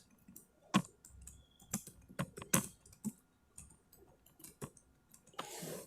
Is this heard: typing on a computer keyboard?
yes